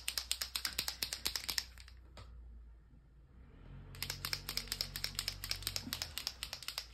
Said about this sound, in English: Now with these, you obviously have to shake them.